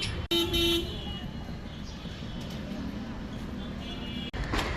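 A car horn toots once loudly near the start amid a roadside traffic jam beside a crowded cattle market. A low rumble of idling vehicles and murmuring voices continues underneath, with a sharp short sound near the end.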